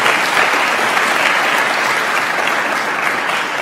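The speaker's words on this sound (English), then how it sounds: "Please, a round of applause for our team." An event crowd gives the organizing team a loud, sustained round of applause, a dense even wash of clapping throughout without a break.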